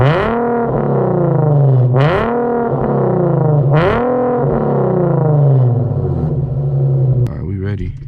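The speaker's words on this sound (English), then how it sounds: "let's go ahead and give it a couple of revs for the camera in the back" An Infiniti G37X fitted with Vibrant resonators revs twice, its engine note sweeping sharply upward and falling back over an idle, then settling into a droning hum. The sound is loud and close.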